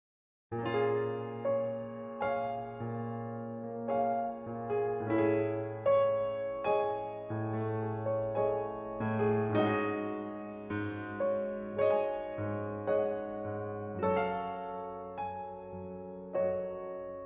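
A short instrumental jazz passage plays alone, with steady plucked or keyed chords and a walking pulse moving through shifting harmonies.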